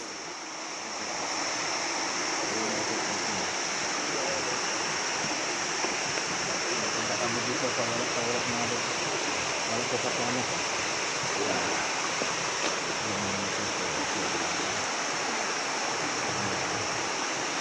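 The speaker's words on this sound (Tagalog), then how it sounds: "Ito na yung Adams Waterfalls" Adom waterfall in Ghana pours with a steady, full rushing roar of falling water that stays even and close throughout.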